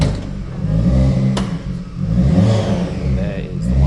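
Citroen C2 with a 1.6 16-valve engine revving under an open bonnet, loud and close, a steady mid-pitched drone that swells and eases across the few seconds with no clean peaks.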